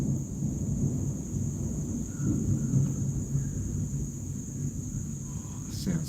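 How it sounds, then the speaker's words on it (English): Low, continuous thunder rumble during a rainstorm, steady and fairly close, with no distinct sharp cracks and a faint hiss of rain over it. "Can you hear the thunder?"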